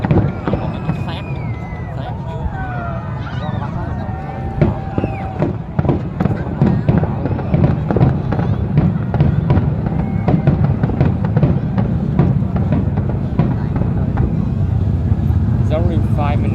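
New Year 2024 fireworks over Can Tho city burst continuously, a dense barrage of loud cracks and booms packed tightly together, with crowd voices and chatter running underneath throughout.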